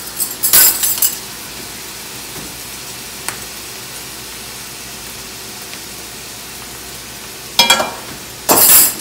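Cauliflower fried rice being stirred in a pan with soy sauce and sesame oil: a faint steady sizzle broken by sharp clinks and scrapes of a utensil against the pan, clustered near the start and end.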